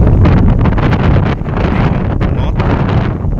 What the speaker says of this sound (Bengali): বাতাসও বইছে এর মধ্যে